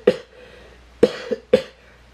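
Three sharp coughs from a person recovering from an illness, close to the mic: one alone, then a double cough with a short follow-up, then a final single cough, with quiet room tone in between.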